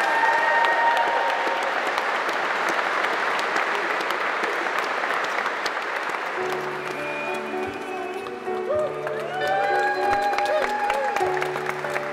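Wedding guests clap for a newly pronounced husband and wife, warm sustained applause that gradually thins as music swells in underneath during the second half.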